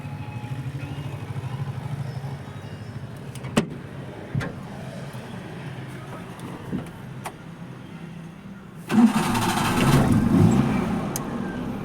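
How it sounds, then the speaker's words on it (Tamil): A Maruti Omni van sits through several seconds of quiet with a few isolated clicks, then its engine starts with a sudden loud surge and settles into a steady, fairly loud idle, with no talking. "வண்டியை ஸ்டார்ட் பண்ணி காட்டுறேன் பாருங்கள்"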